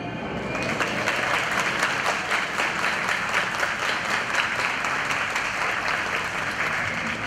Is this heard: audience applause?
yes